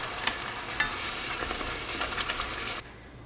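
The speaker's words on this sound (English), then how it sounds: "He says to add 1 whole clove of garlic. Let this saute in here just for a minute or so." Garlic and strained tomatoes sizzle in a pan while a utensil stirs them, with a steady frying hiss and scraping clicks that stop abruptly near the end.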